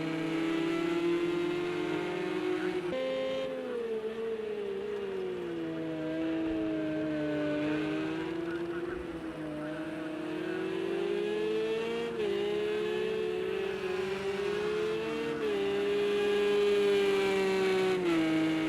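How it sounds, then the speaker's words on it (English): Porsche race cars lap Silverstone in a racing video game, a continuous loud engine wail rising and falling through gear changes as the cars accelerate and brake, with no voices over it. "these Porsches are an absolute handful to take around this track here at Silverstone."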